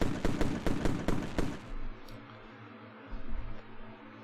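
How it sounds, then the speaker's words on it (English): A rapid string of sharp firework cracks bursts loud and close for about a second and a half, then fades into a low rumble with a few scattered pops. "Get those fireworks going."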